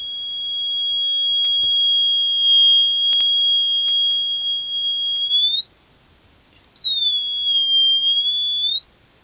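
A steady pure sine tone comes from a variable sine wave generator circuit. It is loud and continuous, and its pitch shifts up and back down a couple of times.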